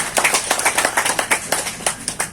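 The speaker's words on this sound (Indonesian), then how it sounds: "Saya minta tepuk tangan untuk BM PAN Sultra yang baru saja ini." An audience claps for BM PAN Sultra at a gathering, a steady run of fairly close, distinct handclaps in an uneven rhythm that carries on for a couple of seconds without talk.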